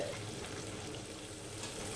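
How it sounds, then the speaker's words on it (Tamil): Steady, close sizzling of small onions (shallots) sautéing in a hot pan for ginger-tamarind pachadi, a continuous crackling hiss with no voices. "இந்த வெங்காயம் நல்லா வதங்கி வரணுங்க நல்லா கண்ணாடி பதம் வரணுங்க நல்லா வதக்குங்க"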